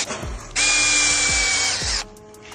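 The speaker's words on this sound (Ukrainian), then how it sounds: "Так само спочатку прикручується болт саморіз." A power drill drives a self-tapping bolt into gazebo parts with a loud, close, sustained whir lasting about a second and a half, framed by quieter handling knocks before and after.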